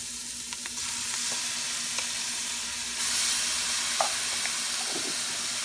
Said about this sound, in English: Now let's put our garlic.